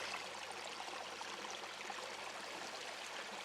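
Water flows steadily in a stream along the High Coast Trail in Sweden, a continuous soft rushing and gurgling with no voices.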